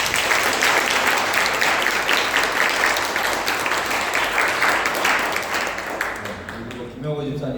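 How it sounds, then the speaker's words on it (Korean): A church congregation at a Sunday worship service welcomes visiting guests with loud, dense applause that swells across the room and fades after about six seconds, when a voice begins speaking. "우리 박수로 환영하겠습니다"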